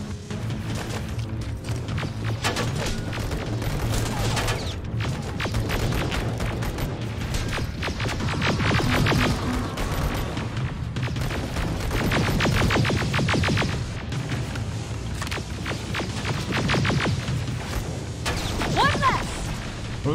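Rapid gunfire and booming blasts fill a firefight against Terminators in the Terminator Resistance shooter. The dense, continuous bursts of shots and impacts are mixed with voices and music.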